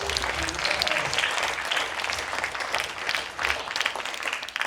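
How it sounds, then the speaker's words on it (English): An audience at an art center panel discussion claps in steady, dense applause that fills the whole stretch without a break. "Let's give them a big round of applause."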